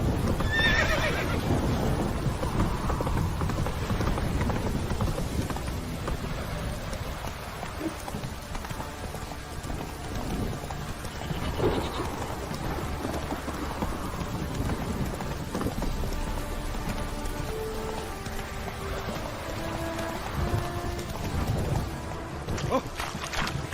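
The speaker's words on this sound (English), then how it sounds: "Whoa there, Roach" A horse in The Witcher 3 video game whinnies and its hooves clip-clop amid steady rain and ambient game sound, the calls loud near the start and hoofbeats continuing throughout.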